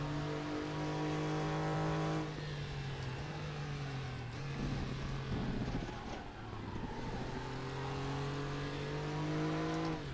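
A Porsche race car engine in the RaceRoom racing game drones steadily and loud, rising and falling in pitch through gear changes and revs, alone without talk.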